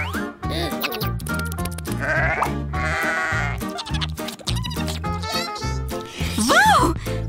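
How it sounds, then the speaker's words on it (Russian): Goats bleat loudly and repeatedly nearby at a farm feeding, wavering cries overlapping one another, with a voice mixed in among them. "Кормление козочек! Нам сюда! Козам нравятся яблоки!"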